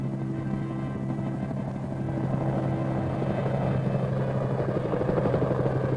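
Military helicopter in flight carrying a 75mm pack howitzer, with steady loud rotor thumping and engine drone that grows slightly stronger, heard alone without talk.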